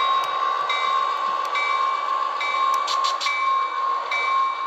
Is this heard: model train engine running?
yes